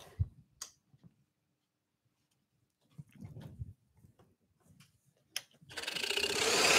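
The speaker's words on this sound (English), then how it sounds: "Let me pop my extractor back on" A dust extractor switches on at a scroll saw bench. Scattered quiet clicks and knocks come first, then a near, steady broadband whoosh of airflow rises and holds to the end. No one speaks.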